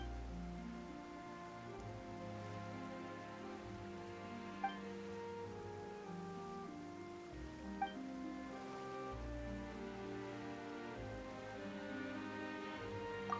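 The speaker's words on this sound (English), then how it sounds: "Why is it raining all..." Rain falls steadily in Genshin Impact, a soft, even hiss beneath a low, sustained musical drone, with a few faint drip-like clicks scattered across it.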